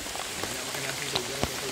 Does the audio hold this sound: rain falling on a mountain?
yes